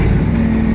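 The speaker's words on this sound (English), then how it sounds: "this is the mighty Ford grain truck, F750. 1975 vintage" The 391 cubic inch petrol engine of a 1975 Ford F750 grain truck roars loudly and steadily up close in a brief, deep, rumbling burst.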